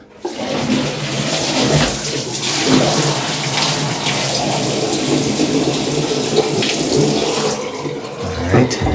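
A bucket of water poured fast into a toilet bowl to flush it, a loud continuous rushing and gurgling wash that lasts several seconds, close by, with no talk over it.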